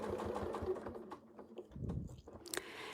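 A sewing machine stitches slowly along the edge of a Westalee Tecoma clamshell quilting template, giving a soft, uneven mechanical whir and patter, close but fairly quiet, with a sharper clack near the end.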